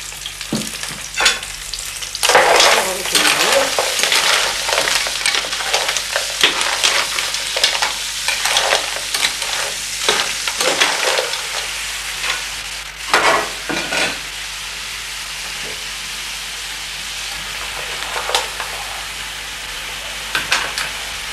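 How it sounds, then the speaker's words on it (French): Mussels fry in hot oil in a pan on a gas stove, sizzling loudly and steadily at close range, with stirring scrapes and crackling pops throughout and no talking. "les moules ont rissolé pendant 5 minutes à peu près"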